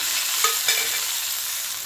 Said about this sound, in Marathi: तेल गरम आहे त्याच्यावरती जिरे मोहरी टाकायचे वाटलेला लसण टाकायचा